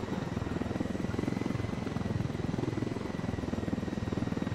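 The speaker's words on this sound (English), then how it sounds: "So we should take this chopper." A helicopter flies in the video game Ghost Recon: Wildlands, its rotor chopping in a steady rapid rhythmic thrum, continuous and prominent with no talk over it.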